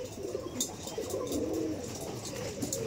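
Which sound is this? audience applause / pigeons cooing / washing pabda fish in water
pigeons cooing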